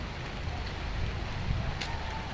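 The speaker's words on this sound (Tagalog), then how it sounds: "Lakas na ng ulan" Steady, dense hiss of heavy rain pouring down, a continuous broadband wash with no breaks and no voices.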